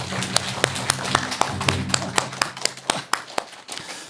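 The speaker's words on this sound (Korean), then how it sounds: "여러분 큰 박수 부탁드리겠습니다" A small audience claps for a guest lecturer, a scholar of Korean oral literature, at a Buddhist dharma talk; sparse, distinct individual claps at moderate level, with a low hum beneath.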